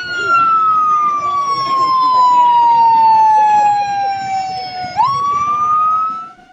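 A police patrol car siren wails in a long, slowly falling tone that jumps back up near the end, loud and close, while leading a funeral procession in Tuxtla Gutiérrez, Chiapas.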